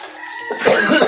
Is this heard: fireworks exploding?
no